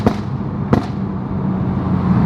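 A Toyota Supra's exhaust pops and crackles on a bridge: two sharp loud bangs followed by a steady rumbling engine drone.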